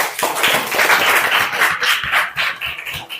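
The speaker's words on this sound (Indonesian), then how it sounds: "Oke, aplaus buat Putri." Students give a short burst of applause in a classroom for a pupil named Putri, with steady, close clapping for about three seconds.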